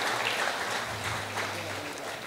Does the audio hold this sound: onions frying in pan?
no